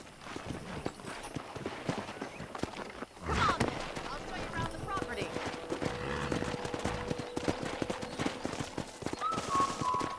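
Horse hooves clip-clop in Red Dead Redemption, a steady walking rhythm at moderate distance, running under a man's speech, game music and ambient noise.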